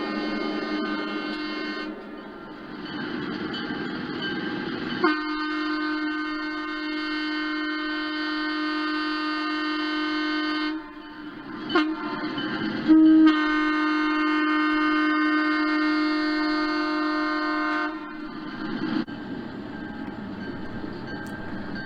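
Model railway layout with Penn Central diesel units: a motor hum of a train running, interrupted by long sustained horn blasts with a clear harmonic tone, the second blast sounding after a brief clatter and lasting several seconds.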